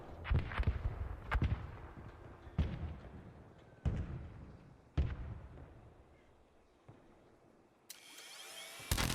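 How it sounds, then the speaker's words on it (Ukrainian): Sharp gunshots in the video game ARC Raiders ring out one by one at irregular intervals, each fading with a short echo, followed by a brief burst of high mechanical noise. "Я стріляю по ньому."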